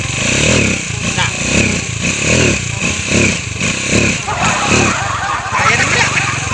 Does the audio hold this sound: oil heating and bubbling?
no